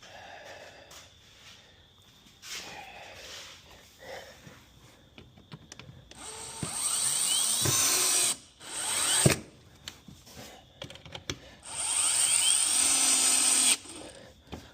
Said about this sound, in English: I'll kind of turn the torque setting down on this thing. These are our plastic screws.